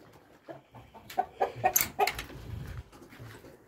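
Chickens cluck and squawk in a closed coop, a burst of several overlapping calls at close range that rises and then fades, with no speech over it.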